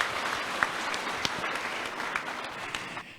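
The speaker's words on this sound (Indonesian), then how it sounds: "Berikan tepuk tangan untuk kita semua." Audience at a health protocol talk show in Brebes Regency applauds, with steady, moderately distant clapping and a few sharper individual claps throughout.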